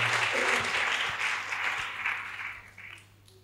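A church congregation applauds steadily, broad sustained clapping that fills the room and gradually thins toward the end.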